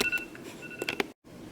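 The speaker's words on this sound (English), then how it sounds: "Okay, so my phone alarm went off." A phone alarm going off indoors, a few short electronic beeps and tones with a brief tonal pattern before cutting off into silence.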